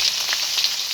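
Spice paste of green chilli, onion, cumin, ginger-garlic paste and turmeric fries in hot oil left from frying fish, a brief, close, bright sizzle without speech.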